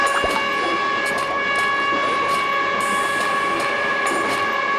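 A third-class train on a Cambodian railway rolls along with a loud, continuous rumble and steady tonal hum, and brief clanks and hiss-like bursts rise above the ride noise.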